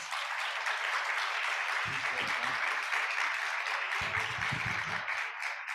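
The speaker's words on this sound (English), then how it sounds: "Can we give the panelists a round of applause, please?" Applause from a conference audience for panelists, a steady, sustained clapping throughout, with brief low thumps or voices surfacing twice in the background.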